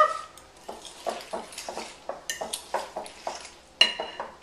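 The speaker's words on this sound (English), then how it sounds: "Mix it all up." Guacamole ingredients being mixed in a bowl: a steady series of soft, wet scrapes and light utensil clicks against the dish, about two per second, close and clear with no talk.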